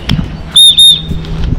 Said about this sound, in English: she's stopped there in her tracks on hearing the whistle